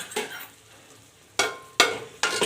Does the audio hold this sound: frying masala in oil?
yes